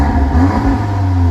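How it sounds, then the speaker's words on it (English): A Volkswagen Golf R Mk7 in race mode with the exhaust opened up gives a short rev, a close, throaty engine note that rises and settles within a second or so. "Click into race and we'll get a nice opening up of the exhaust system, where we can of course give it a little rev for you so you can hear that."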